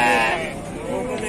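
Sheep or lambs bleating at a crowded sheep and lamb market in Beyləqan, a loud, wavering cry filling the moment amid the general bustle.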